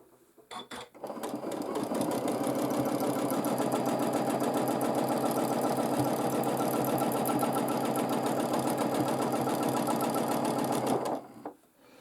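A sewing machine drives a fast, even run of free motion quilting stitches for about ten seconds, loud and close, starting and stopping abruptly.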